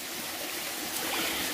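Gentle, steady flow of shallow water trickling over rocks in a small, low-water stream at the top of a waterfall, a soft continuous wash with no voices.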